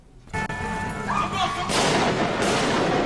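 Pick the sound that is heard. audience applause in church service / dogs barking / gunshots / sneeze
gunshots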